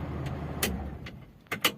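A Daihatsu Zebra Espass, idling for about eight minutes, has its engine switched off: a low rumble fades out, followed by a few sharp clicks nearby.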